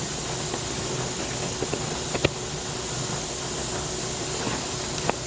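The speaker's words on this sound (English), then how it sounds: "Right there, the steam coming out." Steam venting steadily from a pressure canner processing chicken stock, a continuous hiss with a faint tonal hum and a few sharp clicks scattered through it.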